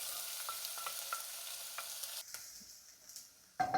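Onions sauté in a pan with a soft, steady sizzle and a few light stirring scrapes, close and fairly quiet, ending in a sharper clatter.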